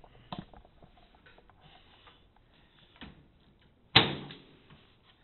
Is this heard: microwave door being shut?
yes